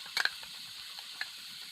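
Onion sizzles gently in hot oil in a pan, with a few quick scraping stir clicks near the start and one more a second later, fairly quiet and without talk.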